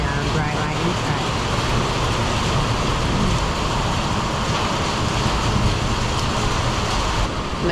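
Steady dense rain drums on a tin roof, a constant broadband patter filling the whole stretch at an even, fairly loud level.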